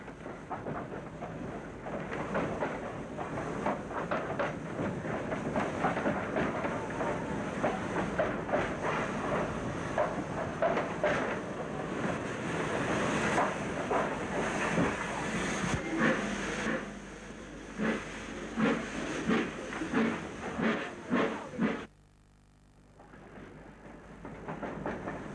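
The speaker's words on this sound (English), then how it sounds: "This is an inbound train." A narrow gauge steam train in Britain rumbles past close by with rhythmic clatter of wheels over rail joints, then cuts off abruptly, leaving a quieter hum.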